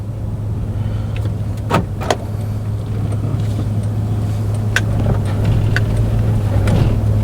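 A 2005 Suzuki Aerio facelift hatchback on a test drive, its steady low engine hum and road rumble running continuously at an even level, with a few faint clicks and taps from inside the cabin.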